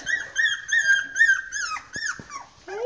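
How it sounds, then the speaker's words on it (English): Four-week-old puppies whimper and squeal in a rapid series of high, close cries, with a few short yips and no talking. "These are Sage and Nico's puppies, and they are a couple days over 4 weeks."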